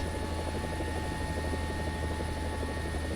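Steady, loud helicopter rotor thump and turbine engine whine from a helicopter in War Thunder, a continuous drone held at full RPM with no break and no voices.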